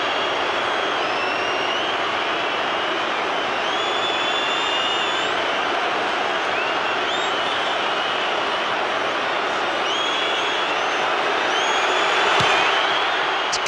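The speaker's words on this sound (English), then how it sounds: "I'll let you listen to the crowd when he hits this." A stadium crowd at a 2017 State of Origin rugby league match (Game 2, Queensland) roars steadily and loudly throughout after a goal kick. The roar is broad and continuous, with a brief swell near the end.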